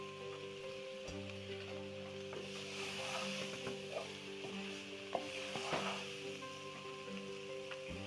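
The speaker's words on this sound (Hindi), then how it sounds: "अब हम इसमें आलू डाल देंगे अपने मसाले में और चूल्हा हम अपना बंद कर देंगे और इसे मिक्स करेंगे।" Potatoes are stirred into spices in a pan with the stove switched off, giving a soft steady sizzle and scraping stir sounds close by, with occasional light knocks and no voices.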